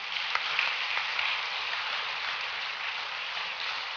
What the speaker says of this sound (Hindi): भाई तालियां बजनी चाहिए।